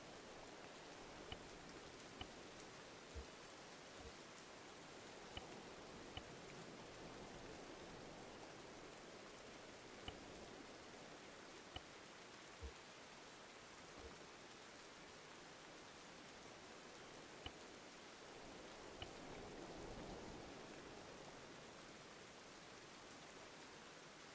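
Rain falls in the video game Arma 3, a faint, steady patter with scattered soft ticks of drops throughout.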